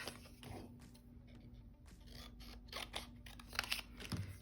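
Scissors cutting a craft scrap in half, a few quiet snipping crunches and paper rustles close by over a faint steady hum, with no speech.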